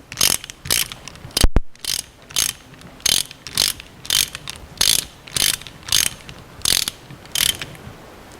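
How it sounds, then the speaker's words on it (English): A reversible ratchet wrench tightens bolts on final drive components. About a dozen evenly spaced bursts of ratcheting clicks sound close and clear, with a single sharp metallic knock early on. "Reversible wrench in order to tighten the bolts."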